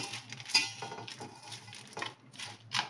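A spoon stirring ghee-roasted edible gum, dry fruits and poppy seeds in a pan for gond laddu, with close scraping and light metallic clinks in uneven strokes, no talk.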